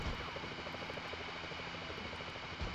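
An attack helicopter in a video game flies overhead with a rapid, steady rotor thump over a constant engine whine, faint and unbroken throughout.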